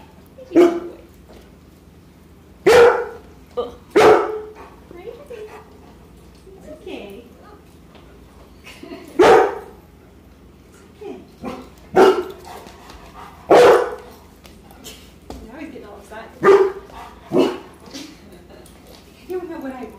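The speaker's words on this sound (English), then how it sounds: "we'll wait until you bark" A dog barks indoors in sharp, loud bursts, single barks and short pairs spaced irregularly, with people talking quietly between them.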